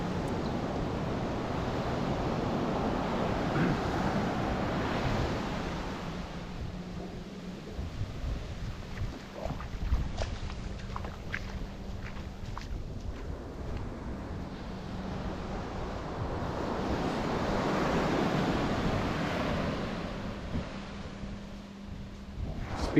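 Ocean surf rolling onto the wet sand of Playa Farallon at Rio Hato, Panama, a steady broad wash of breaking waves that swells loud near the start and again toward the end, with wind noise on the microphone.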